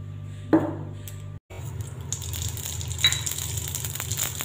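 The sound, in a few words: poppy seeds and dried red chili tempering sizzling in oil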